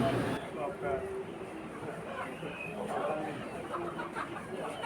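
Chickens cluck in the busy background of a poultry shop at a market in Mirpur 11, Dhaka. People talk nearby and partly mask the birds.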